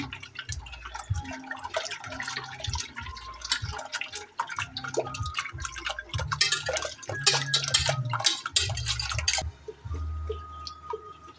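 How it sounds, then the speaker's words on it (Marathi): Rice flour batter for kurdai is stirred in a pot of boiling water, giving repeated scraping and clinking of a spoon against the metal pot in an uneven rhythm, with bubbling liquid underneath. "अशा पद्धतीने हलवत राहायचं आहे."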